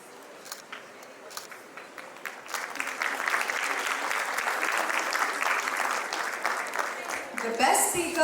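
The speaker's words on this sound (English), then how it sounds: "A big round of applause for them, please." Applause from a sizable crowd at a national English debate final starts out scattered, swells into a dense, sustained roar, then fades toward the end with a voice over the top.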